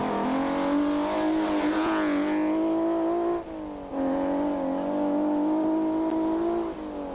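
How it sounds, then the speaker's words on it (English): A Subaru rally car accelerates hard past on a gravel stage of the Great North Rally 2001, its engine note loud and close, rising through gears with a brief dip for a shift midway before pulling on at full throttle. "Pete Swanepoel in the Subaru give our cameraman a few anxious moments"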